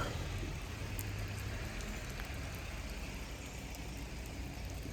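Steady, dense rain hisses continuously, a heavy mountain downpour on the Darjeeling road pattering on surfaces with no break throughout.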